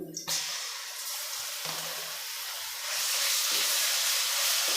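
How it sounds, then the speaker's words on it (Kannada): Ginger garlic paste frying in oil in a home kitchen, a continuous loud hiss and sizzle close by, swelling stronger toward the end, with faint clinks at the start. "ಈ ಥರ ಹಸಿ ವಾಸನೆ ಹೋಗೋ ತನಕ ಫ್ರೈ ಮಾಡ್ಕೋಬೇಕು ಇದನ್ನು ಈಗ ಶುಂಠಿ ಬೆಳ್ಳುಳ್ಳಿ ಪೇಸ್ಟು ಫ್ರೈ ಆಗಿದೆ"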